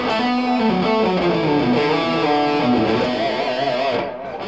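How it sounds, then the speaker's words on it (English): A distorted electric guitar plays a sustained, sliding solo line through a Keeley Caverns pedal set for light delay and reverb, loud and close, with the notes ringing into a short reverb tail at the end. "the only effect I have is a Keeley Caverns pedal in the effects loop, and that's giving me a little bit of delay and a little bit of reverb"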